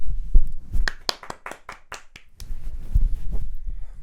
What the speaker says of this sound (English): a little round of applause for Dwight McNeil